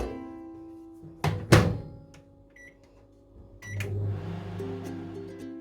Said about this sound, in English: So I'm going to melt this in the microwave